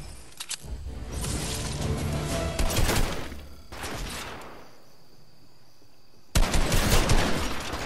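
Loud, dense bursts of automatic gunfire in a multiplayer video game, rattling almost continuously, dipping into a quieter lull, then erupting again near the end.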